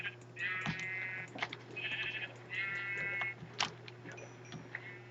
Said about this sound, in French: Ouais, on tue tous les moutons.